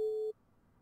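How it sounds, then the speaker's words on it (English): A single steady electronic signal beep in the video game Kerbal Space Program, played with the Realism Overhaul mod during a polar reentry vehicle test; clean, loud and lasting about a third of a second before cutting off. "Beep, beep, beep, beep, beep."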